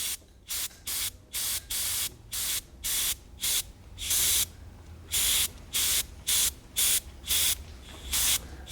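An airbrush sprays paint in short, repeated bursts onto a carved wooden fish, each hiss lasting about half a second with brief gaps between, close and crisp.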